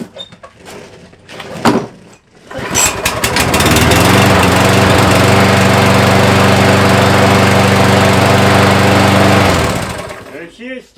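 A repaired Craftsman lawn mower engine starts after a few clunks and runs with a loud, steady droning rumble close by for several seconds before cutting off.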